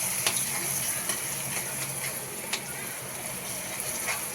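Thick pav bhaji paste stirred steadily in a pan, giving a soft continuous sizzle with faint scraping strokes and small clicks of the spoon throughout.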